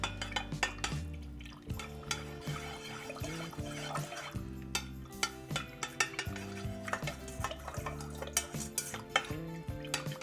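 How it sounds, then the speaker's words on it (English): Procion MX dye solutions in fuchsia, yellow and other colours being stirred one after another, a busy run of close clinks and scraping knocks of a utensil against containers, with no talk. "Let's give each of these a stir."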